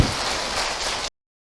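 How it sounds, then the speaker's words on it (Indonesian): Brief burst of audience applause for an Islamic preacher at an Eid al-Fitr religious gathering, a dense hiss-like patter of many hands, steady and fairly close, ending abruptly after about a second. "sekali tepuk tangan ibu untuk Ustadz Encep"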